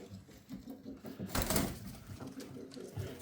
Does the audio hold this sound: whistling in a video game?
no